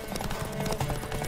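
Horse hooves clip-clop in The Witcher 3 game, a quick patter of steps mixed with a short whinny over a dense, busy background.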